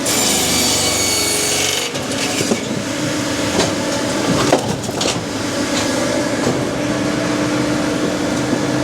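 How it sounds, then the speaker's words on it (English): A Posch firewood processor splitting timber into logs in a firewood yard, a loud continuous mechanical grinding and rubbing of wood with creaks and clunks throughout. "once that drops into the splitting chamber, you'll see that the axe then gets forced against the axe, which breaks it down into the appropriate sized pieces"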